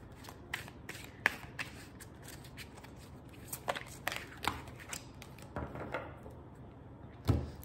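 Tarot cards being shuffled by hand, a string of soft papery riffles and slaps with sharper card snaps at irregular intervals, fairly close and quiet with no talking.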